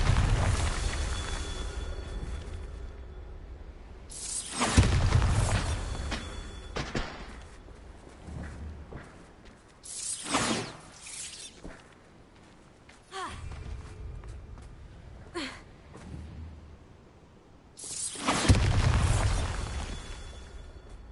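Bombarda blasting spell going off in Hogwarts Legacy on PS5: a few heavy booming explosions spaced several seconds apart, each with a loud burst and rumbling decay, mostly without talk.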